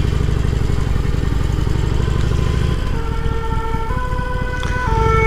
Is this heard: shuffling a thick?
no